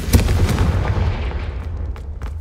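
A Confringo fire spell fires off in Hogwarts Legacy near a set of braziers: one loud, close blast with a sharp crack, then a rumbling tail that fades over about two seconds, with no voices.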